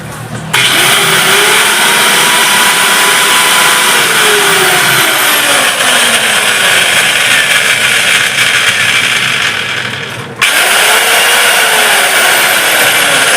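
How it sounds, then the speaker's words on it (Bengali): A repaired marble cutter machine switches on and runs with a loud, steady, high-pitched motor whine, cuts out for a moment near the end, then spins right back up. "মেশিনটা আমি সাপ্লাই দিয়ে চালালাম"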